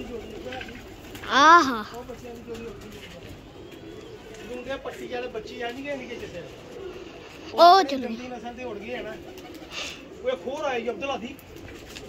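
Racing pigeons coo in short throaty bursts, with a few louder calls standing out close by, while people talk and call out over and between them.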